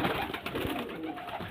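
A pair of female pigeons with golden-ringed eyes coo in a dense, continuous low warble, fairly close and steady over a noisy background.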